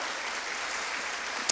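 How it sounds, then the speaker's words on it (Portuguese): Church congregation applauds during a sermon, a short, even patter of many hands clapping that fills the hall, ending with a sharp louder clap. "Pode aplaudir ao Senhor."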